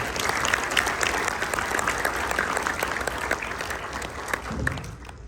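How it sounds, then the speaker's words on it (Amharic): An audience at a church graduation ceremony in Washington, DC, claps in sustained, even applause that stays dense and fairly close throughout. "አሁን አጨብጭቡላቸው።"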